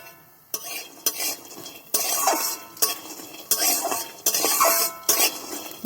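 Vegetables fry in a pan while a utensil stirs and scrapes in repeated bursts of clattering metal over a steady sizzle, close and loud, with no voices.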